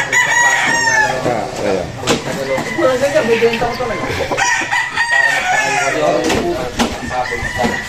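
Gamefowl bull stag rooster of the golden boy sweater line crowing near at hand at a game farm, with repeated crows and clucks amid someone talking over it.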